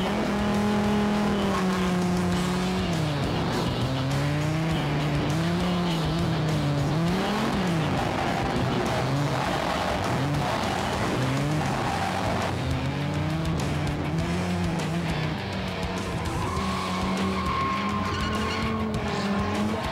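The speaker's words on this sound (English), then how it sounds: "sliding sideways with professional drifter Tarzan" Professional drift car at a 2005 Formula Drift event in Houston sliding sideways, engine revving and wavering throughout with tire squeal over a constant loud roar, continuous and close for the whole stretch.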